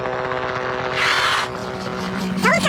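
A helicopter flies with its rotors spinning, a steady loud rotor drone that swells briefly before a rising whistle-like tone near the end.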